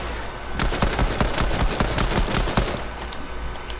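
Rapid automatic gunfire in the Fortnite video game, a loud, fast run of evenly spaced shots lasting about two seconds before fading into lighter scattered clicks and background game noise.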